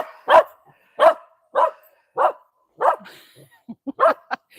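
A dog barks repeatedly at close range, with about seven loud, evenly spaced barks followed by a quicker run of shorter yips near the end. No other sound competes with it.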